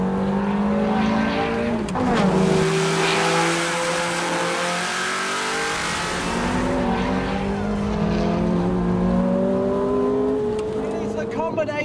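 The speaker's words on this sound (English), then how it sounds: "Combination of the sound between that engine and exhaust" A Ferrari 430 V8 engine and exhaust roar loudly while driving, the revs climbing in repeated hard pulls with brief dips at gear changes. The sound is close and continuous, with a voice talking beneath it.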